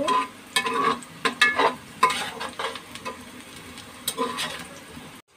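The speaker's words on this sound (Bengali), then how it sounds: "পেঁয়াজটাকে ভালো করে ভেজে নেব।" Chopped onions frying in soybean oil in a pot, with a steady sizzle and repeated scraping stir strokes, close and fairly loud, with no talking.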